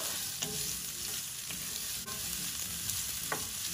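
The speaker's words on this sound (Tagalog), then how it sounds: "hayaan lang po natin na lumambot yung sibuyas" Onion sautéing in oil in a pan, softening over heat: a steady, close sizzle with a few soft scrapes from stirring, with no talking.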